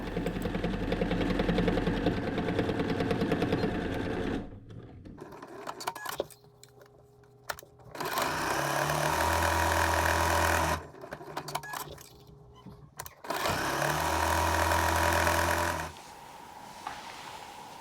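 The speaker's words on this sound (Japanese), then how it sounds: "引き続きキルトミシンをかけていこう。" A quilting sewing machine stitches patchwork fabric scraps in bursts of steady rapid whirring, each run lasting a few seconds and broken by quieter pauses and handling clicks, close and with no talk.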